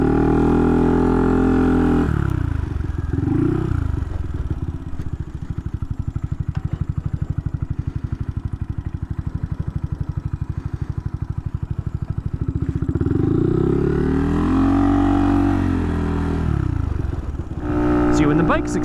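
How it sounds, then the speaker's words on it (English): Honda Monkey motorcycle engine revving up and shifting gears during a clutch lifter plate comparison, a loud close engine drone with rising and falling pitch and mechanical clatter throughout, with someone talking over parts of it. "See, when the bike's accelerating, no problem shifting gears at all."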